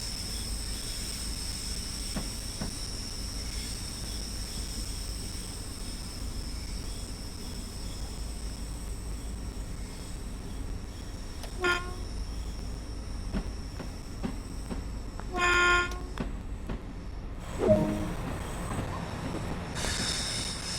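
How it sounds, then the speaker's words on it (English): A Class 314 electric multiple unit train in Train Sim World 2 runs with a steady low rumble and hum, with wheel clatter, a brief squeal and a couple of louder mechanical bursts near the end. "This particular train is a Class 314 electric multiple unit"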